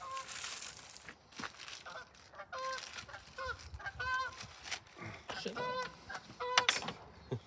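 Geese honk in a series of loud, nasal calls, several bursts in quick clusters with short gaps, fairly close and mixed with rustling background noise, with no talk.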